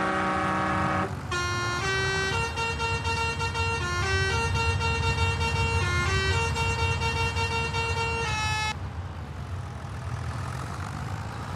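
A vehicle horn modified to play a siren-like tune, sounding on a farm truck during anhydrous application and planting season: a loud stepped melody of held tones lasting several seconds, then stopping abruptly.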